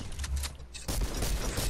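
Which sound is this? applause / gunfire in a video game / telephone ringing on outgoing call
gunfire in a video game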